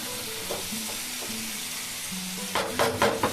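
Chicken pieces stir-fried with salt in a pan, a low steady sizzle under a faint background hum, then a louder burst of spatula scraping and stirring near the end.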